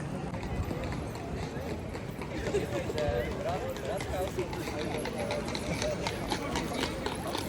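Horse hooves clip-clop on pavement amid a busy outdoor crowd in central Kraków, steady trotting beats under background chatter and street noise.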